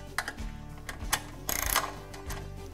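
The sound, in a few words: 10mm socket wrench tightening bolts on Rockwell BenchJaws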